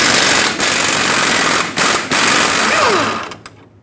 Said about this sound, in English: Remove the nut.